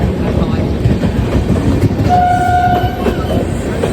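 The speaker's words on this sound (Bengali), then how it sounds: "ব্যাঙ্গালোর থেকে আসছে ট্রেনটা" A Bangalore–Guwahati superfast express rushes past close by with a loud, continuous rumble and rattling wheels, and a brief horn-like tone rises above the roar.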